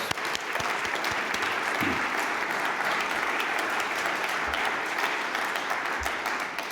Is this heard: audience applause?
yes